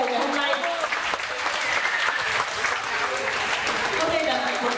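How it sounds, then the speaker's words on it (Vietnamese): A crowd claps in sustained, dense applause at an outdoor freedom torch-lighting ceremony in Geneva, steady and loud throughout with a voice heard over it. "Hãy cho một tràng pháo tay để mà cho cái đuốc này tự chân thêm một vòng tour của cái lều ngày hôm nay."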